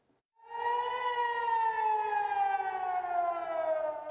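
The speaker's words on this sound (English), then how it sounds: "Sirens sounding across Israel as Iran launches an attack" An air raid siren wails across Israel during an Iranian attack, one long steady tone that rises in quickly after a brief silence, then holds and slowly sags in pitch, loud and alone with no voices.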